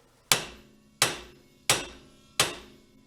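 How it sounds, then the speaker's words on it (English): A hammer striking a stuck wheel hub on a Triumph Spitfire, four sharp metallic blows spaced roughly evenly about a second apart, each ringing briefly before decaying, close and loud with silence between hits. "There's one other thing to try. It's called the hammer."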